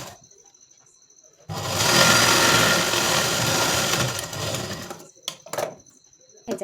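A sewing machine stitching tucks on a 42-inch-chest blouse, quiet at first and then whirring loudly and steadily for about three and a half seconds before stopping, followed by a few short clicks and bursts.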